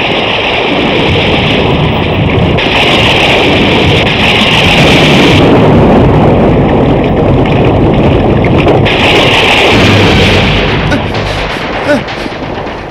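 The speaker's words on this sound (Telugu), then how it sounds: "ఇదేమిట్రా చంద్రమౌళి, పడవ అలిబిలిగా తిరుగుతోంది. భగవంతుడా, ఏమిటిది? అయ్యా వరద వచ్చేసిందయ్యా." A loud, continuous roar of flood water and rough, churning current in a boat drama, swelling and ebbing like a gusting rush for several seconds and then fading slightly at the end.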